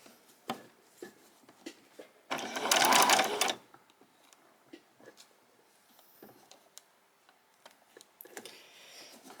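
A sewing machine stitches a pajama top armhole, one short loud burst of rapid running stitches amid quiet handling clicks and fabric rustling.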